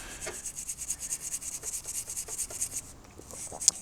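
Motorcycle brake parts being scrubbed clean with kerosene, a close, quiet rhythmic brushing and rubbing in repeated quick strokes, with a small sharp tap near the end.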